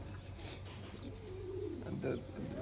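Soft, low pigeon cooing rolls along under a steady background hum, with faint murmuring voices nearby.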